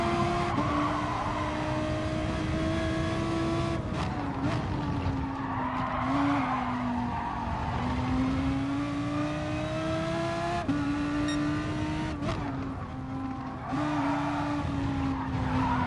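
An Audi race car in a racing video game slides through a big oversteer moment, a continuous loud engine note shifting pitch over a long stretch of tyre scrub and skid, no talking.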